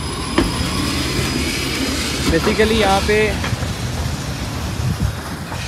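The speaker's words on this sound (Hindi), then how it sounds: "ये इनकी ट्रेन है जो कि वर्क करती है, ये ट्रेन समरकंद में चलती है, लेकिन जैसे मेट्रो ट्रेन कह सकते हैं आप" A Samarkand metro-style passenger train rumbles past nearby with a steady rolling roar and a brief rising squeal midway, while someone talks over it.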